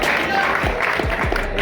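An audience applauds at a college farewell gathering, a brief, steady wash of clapping close by with a voice speaking over it.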